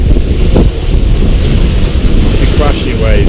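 Ocean waves break and wash at the rocky coast of Porth Wen on Anglesey in Wales, a loud continuous roar heavily buffeted by strong wind gusting against the microphone.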